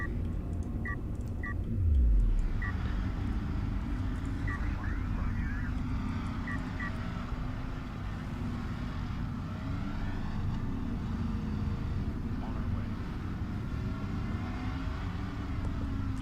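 Vehicles rumbling across terrain in the Homeworld: Deserts of Kharak real-time strategy game, a continuous low engine drone with a brief louder thump early on and faint mechanical clicks over it.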